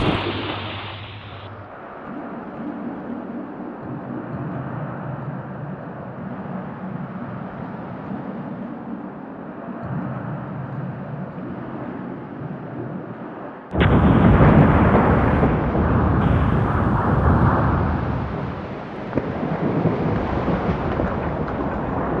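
Wartime bouncing bomb detonating against a dam: a sustained low rumbling roar builds, then a sudden loud broadband blast hits midway and stays heavy and churning to the end, with no voices.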